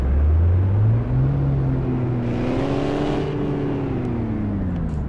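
A car engine in the CityCarDriving video game revs up and holds a steady drone, its pitch rising and wavering, loud and close with no talk.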